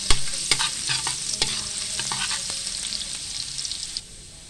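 Garlic fries in hot cooking oil with a bright, continuous sizzle, punctuated by sharp utensil taps and stirring scrapes, before the sizzle drops suddenly near the end.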